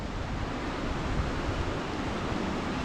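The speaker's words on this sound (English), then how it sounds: "We found the stream, so the waterfall is not going to be hard to find." A forest stream below Shrunz Waterfall flows in a steady, dense rushing wash, loud and close, with no voices.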